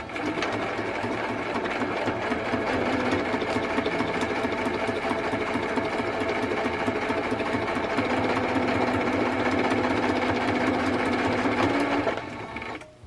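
A sewing machine stitches a travel notebook insert cover, running steadily and loudly at close range for about twelve seconds before stopping.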